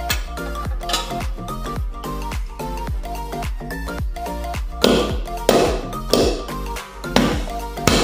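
Ginger and turmeric get pounded for tea in a series of sharp, ringing taps, steady at first and then heavier, firmer strikes toward the end, alone without talk.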